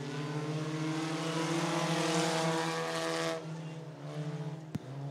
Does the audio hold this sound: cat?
no